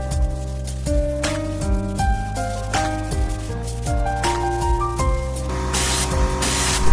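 Primer is sprayed onto a 1.1-metre wooden bathroom cabinet in a vintage style, with hissing spray bursts over steady background music, the loudest near the end.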